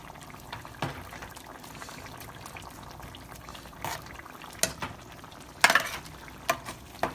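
Ground beef for burritos cooking in a pot, a low bubbling simmer under a few scattered scrapes and clinks of a spoon stirring, growing busier toward the end, close and fairly quiet with no talking.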